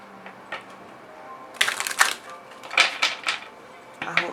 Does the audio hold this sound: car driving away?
no